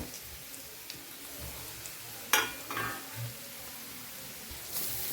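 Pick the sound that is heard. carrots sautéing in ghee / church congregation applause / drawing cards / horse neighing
carrots sautéing in ghee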